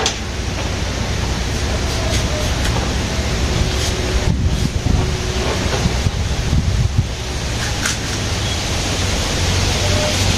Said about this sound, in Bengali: বাতাস আছে ভালো রকম বাতাস